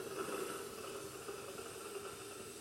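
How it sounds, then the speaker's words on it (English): A Monster hand held steamer blasts steam down into a sink drain, a steady, even hiss that holds at a constant level from start to finish, close and fairly quiet. "You see all that steam going down there and cleaning and melting anything down there."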